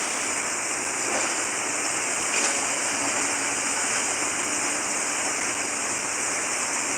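A rain-swollen river flooding down from the Marapi crater rushes in a loud, unbroken roar, with heavy rain falling, close and steady throughout with no voices.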